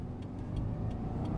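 A Subaru WRX tuned with a Cobb AccessPort accelerates in first gear, its engine a steady, loud drone heard from inside the car, with no talking.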